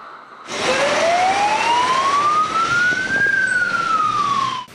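A loud wailing emergency services siren in Cherkasy, Ukraine rises slowly in pitch, then falls, close and continuous with no talking.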